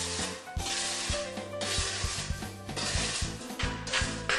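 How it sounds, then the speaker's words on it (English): A flat nose shovel scraping excess wall rock off the top of retaining wall blocks, a loud continuous gritty rasping with repeated strokes and clinks of gravel, close and without talk. "Use a flat nose shovel to remove the excess wall rock from the top of the block."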